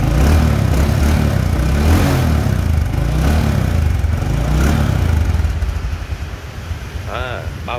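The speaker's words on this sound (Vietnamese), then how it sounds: "Cái hơi máy nè" A Honda Neo motorbike engine idles close by, a steady mid-pitched putter under someone talking, fading slightly near the end.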